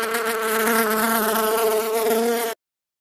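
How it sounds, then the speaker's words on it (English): A bee buzzing steadily and close by, a continuous droning hum that holds for about two and a half seconds and then stops abruptly. "Bee."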